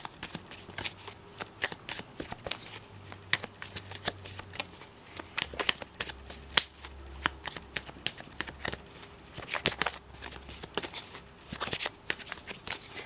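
Tarot cards being shuffled and drawn, a steady run of crisp riffling flicks and snaps, close and clear, with a low hum underneath and no talk.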